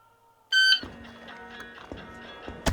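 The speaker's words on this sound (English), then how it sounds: "the timer was ultralight, durable, easy to read, and loud as hell." A Competitive Electronics Pro Shot shooting timer gives one loud, short, high-pitched electronic beep, with faint room noise and a small click after it.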